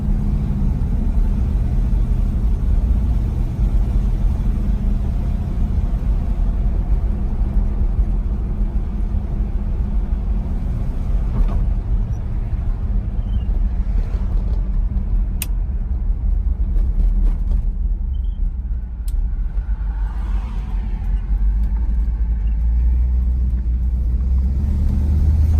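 A 1958 Pontiac Bonneville Sport Coupe with Tri-Power carburetion drives along, its engine giving a loud, steady low rumble from inside the car with faint road noise and no speech.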